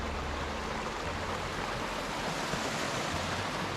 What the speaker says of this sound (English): Looks like it's a river.